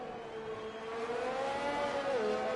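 A Formula 2 race car on a hot lap at Monza screams at high revs, its engine note climbing steadily in pitch and loudness before a quick dip near the end, heard at moderate distance.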